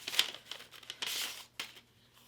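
A small paper bag holding quilt labels crinkles and rustles close up in a quiet room, in a few short bursts and one longer crumple.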